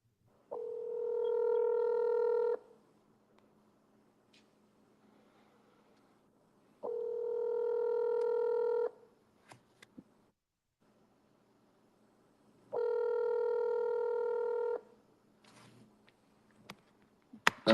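Ringback tones on an outgoing telephone call: three steady two-second rings spaced several seconds apart, clear and moderately loud, with faint clicks and line noise between them.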